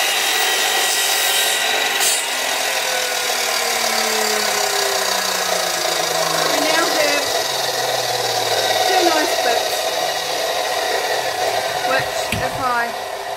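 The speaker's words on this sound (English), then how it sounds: "So, back to the saw." A saw trims a piece of an old wooden box, droning loud and continuous throughout, with faint rubbing and scraping underneath and a voice briefly audible.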